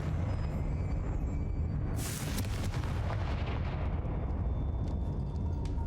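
Fiery spell explosion in the Hogwarts Legacy game on PC, a single loud blast followed by a crackling roar over steady game ambience.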